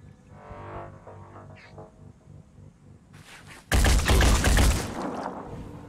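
A burst of gunfire from a soldier's weapon in the turn-based tactics game Phoenix Point, a loud broadband blast of about two seconds after quieter game ambience and footsteps, then fading reverb.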